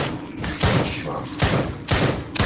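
Gunfire in the video game Drop Dead: Dual Strike: four heavy, booming shots in quick succession, each a dense blast over a constant thick background of game sound.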